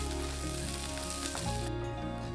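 Steady, loud sizzling of onions, green chillies and curry leaves sautéing in a hot pan, with a brief stirring scrape partway through; no talking.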